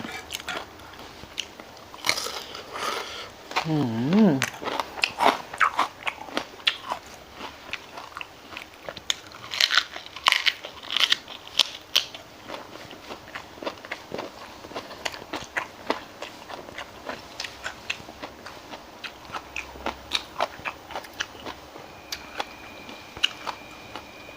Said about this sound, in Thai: หัวแซบแซบพี่น้องแนวแซบมันอยู่หัวนี่แหละครับ กรอบกินได้เบิดนี่แหละ